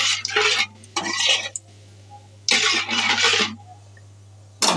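Pumpkin is stirred in a wok with a black cumin tempering, heard as loud scraping and sizzling bursts in a few separate strokes with pauses between them.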